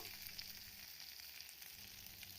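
Okra pieces fry in a pan with a faint, even, hissing sizzle that runs unbroken throughout, with no voices.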